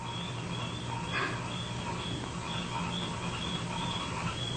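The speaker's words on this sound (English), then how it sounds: "You hear those frogs?" A chorus of frogs near water, with high chirping calls repeating in a loose pulsing pattern over a constant low background hum; no one speaks.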